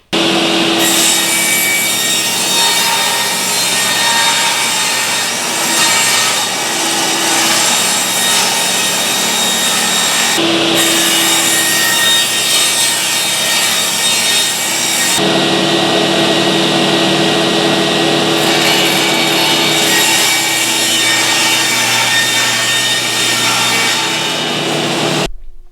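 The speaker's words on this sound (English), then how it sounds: "Now let's take it over to the table saw and" Table saw ripping through wood for a Shaker/Mission style table chest: a loud, steady whining roar of blade and motor that holds for long stretches, briefly shifting in tone between passes, with no talking.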